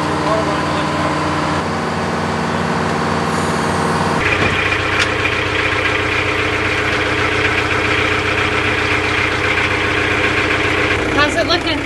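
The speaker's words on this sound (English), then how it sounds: "I'll start the engine as soon as we're in" A boat engine idles steadily, then shifts to a louder, rougher running note partway through and keeps going, with some faint voices, near Puerto Peñasco.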